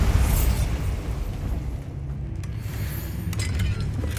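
Bombarda blasting spell explosions in the Hogwarts Legacy video game: dense, loud booming rumbles with a crackling burst near the start and further impacts later, no talk.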